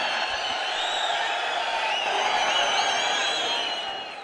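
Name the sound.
audience applauding loudly in a stadium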